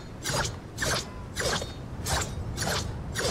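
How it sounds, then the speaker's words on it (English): Five rapid whooshing pickaxe swipes in Fortnite in a steady rhythm, each a bright airy sword-like slash over a low mechanical rumble, like a weapon cutting through the air. "So obviously has that normal like sword slicing sound like the scythe"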